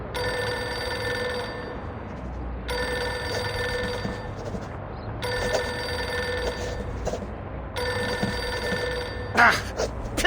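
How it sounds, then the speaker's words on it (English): An old-style telephone bell rings in four long bursts with short pauses between them in the video game Reverse: 1999, loud and close, with a brief clatter at the end. "Pick up the phone already."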